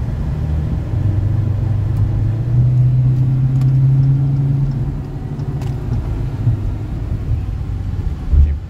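Vehicle engine running while driving on the road, a steady low rumble with a droning hum that swells slightly then eases, continuous and close throughout with no talk.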